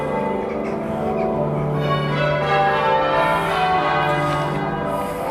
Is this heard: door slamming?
no